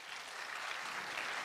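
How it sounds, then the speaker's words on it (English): Conference audience applauding, a dense steady wash of many hands clapping at even strength throughout, heard from a moderate distance with no voices above it. "Can we have a big round of applause?"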